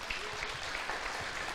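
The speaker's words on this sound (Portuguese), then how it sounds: "aplauda o Senhor por isso, porque vai ser poderoso." Congregation applauding during a church service, a brief, steady patter of many hands clapping together at moderate distance, with no speech over it.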